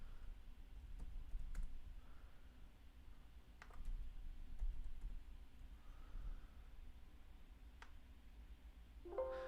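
Fingers typing on a computer keyboard in a quiet room, faint scattered clicks and short bursts of keystrokes spread across the whole stretch, with no voice.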